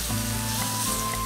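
Chicken fries in a hot pan with soy sauce and fish sauce, giving a loud, continuous close-up sizzle with faint scraping from stirring and no talking.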